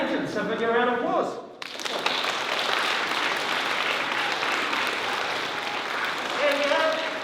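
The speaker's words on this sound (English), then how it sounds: "have a round of applause." A school assembly audience breaks into broad applause after a brief spoken announcement, the steady clapping sustained for several seconds before a voice resumes at the end.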